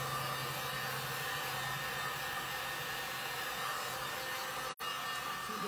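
A heat dryer blows steadily over a box lid coated in chalk paint, a constant close whooshing hiss with a brief cut near the end, no voices.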